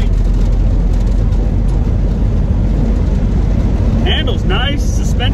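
A 1981 GMC Sierra parts truck, long sat unused, cruises at about 45 mph, its steady road and engine rumble loud and continuous throughout, with brief squeaky rattles near the end.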